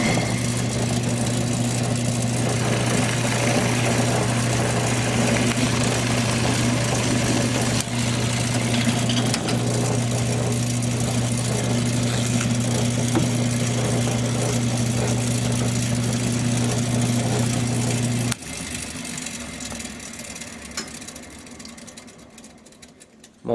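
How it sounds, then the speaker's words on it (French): A pillar drill press drills holes for a table-football build, running with a loud, steady motor hum for about eighteen seconds before shutting off and winding down into quieter workshop background. "Je peux donc démarrer la perceuse à colonne."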